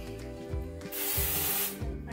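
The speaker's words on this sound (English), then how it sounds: "So all I do is I spray it." Dry shampoo sprayed onto hair from an aerosol can, one continuous close hiss lasting about a second, preceded and followed by a low hum.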